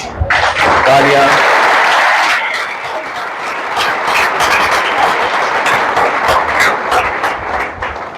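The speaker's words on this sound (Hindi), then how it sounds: "तालियां।" Loud, dense applause from an audience at an awards event welcoming a newly selected GST inspector, sustained clapping throughout with a brief voice near the start.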